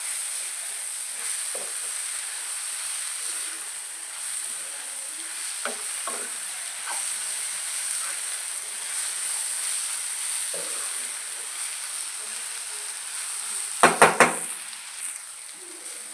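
Masala sizzles steadily in a pan for a dried prawn curry, with a continuous frying hiss and occasional soft stirring scrapes, then a brief cluster of sharp clinks of the utensil against the pan near the end.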